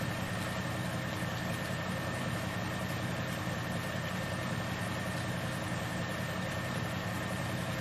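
A tractor engine idles in the farming video game Farming Simulator 19, a steady low mechanical drone that holds evenly throughout with no speech over it.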